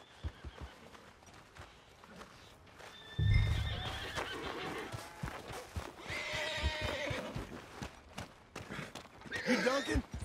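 A horse in the Red Dead Redemption 2 video game gives a loud whinny and clip-clops on its hooves, with scattered footsteps, other game sounds and voices talking around it.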